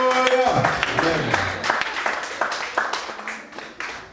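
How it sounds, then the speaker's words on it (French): Congregation clapping for Jesus at a bilingual English-French church service, with rapid scattered hand claps over a held musical tone and voices, moderately loud and continuous throughout. "Let's clap for Jesus."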